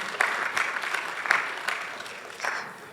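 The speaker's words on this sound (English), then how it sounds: "Let's give everyone a round of applause." Audience applause for a panel at the end of a closing plenary session, a steady wash of many hands clapping with a few louder bursts, moderately close and without speech over it.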